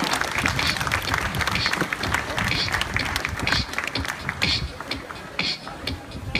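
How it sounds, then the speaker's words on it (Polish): Loud crowd applause fills a basketball team presentation in Kutno, dense clapping sustained throughout with voices mixed in. "Wielkie brawa dla Cerutinek i dla Jarka."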